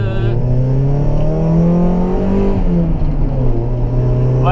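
Engine of a Mazda Miata rally car with an overheating problem, droning steadily close by as it is driven, pitch rising and falling gently with the throttle throughout.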